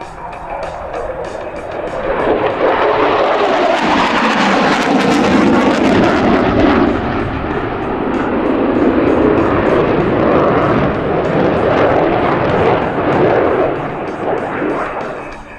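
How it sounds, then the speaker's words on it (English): A US Navy F-18 Hornet jet roars loudly in a steady, sustained wash of engine noise as it lands on a runway at an air show, swelling and holding near, with no talking. "Does not flare prior to touchdown, but is flown onto the runway without slowing the rate of descent."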